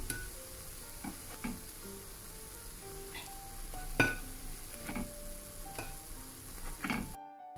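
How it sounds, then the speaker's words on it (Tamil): Kundu dosa sizzling in oil in a pan, a soft steady crackle with occasional scraping and clinking taps of a utensil as it is lifted out, no talking. "ரெண்டு சைட்டும் பொரிஞ்சு வந்த பிறகு குண்டு தோசையை எடுக்கிறேன்"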